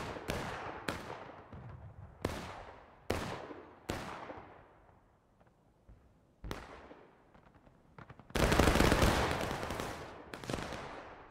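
Massed musket volleys and scattered rifle shots in a large-scale War of Rights Civil War battle, sharp cracks at irregular intervals with a loud, sustained burst of overlapping gunfire near the end.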